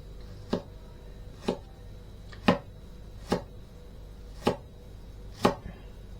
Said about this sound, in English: And we need to finely chop 2 cloves of garlic.